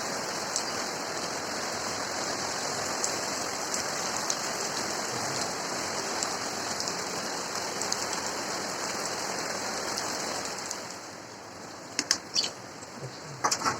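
Rain falls while the sun shines, a dense, even patter that stays steady for most of the stretch, then thins out near the end, where a few sharp knocks sound.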